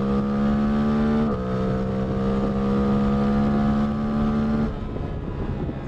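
Suzuki GSX-8R motorcycle accelerating hard, a loud steady engine drone rising in pitch through gears with a shift break, fading with wind noise at the end.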